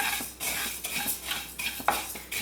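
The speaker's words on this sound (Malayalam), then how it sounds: "മല്ലി നമ്മൾ പരിപ്പൊക്കെ വറുത്തെടുത്ത പോലെ തന്നെ നന്നായിട്ടൊന്ന് വറുത്തെടുക്കുക" A spoon scrapes and stirs repeatedly in a metal pan, with a light rattle of coriander seeds shifting between strokes as they dry roast.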